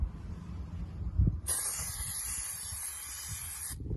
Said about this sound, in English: We're just going to take that can and spray it on pretty much all the metal surfaces underneath the vehicle